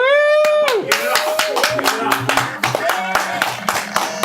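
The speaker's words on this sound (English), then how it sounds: "There was real claps in there." Audience clapping at a live podcast taping, loud and close, with dense sharp claps crowding together over a tonal sound that slides down at the start, and voices mixed in.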